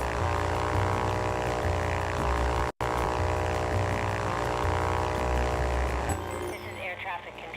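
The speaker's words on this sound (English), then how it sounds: "the plane engine sound is actually it's a one sound loop that just keeps" A droning propeller-plane engine in Ultrawings hums steadily and loudly as one repeating loop, broken by a brief dropout, then thins out near the end.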